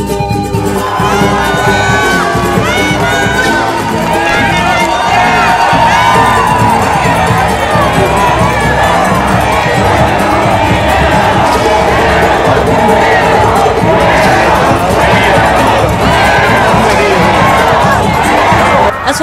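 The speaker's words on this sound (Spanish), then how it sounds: "el aire comenzó a saturarse con un solo y repetido grito" A dense crowd awaiting Evo Morales, president of Bolivia, during his visit to Mexico keeps up a loud, continuous roar of cheering and shouting for the whole stretch, with no separate voices standing out.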